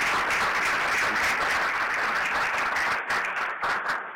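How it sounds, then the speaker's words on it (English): Audience applauding at a Grand Rounds medical lecture at Wake Forest, a dense, steady wash of clapping that thins and breaks up toward the end. "Let's give him a round of applause"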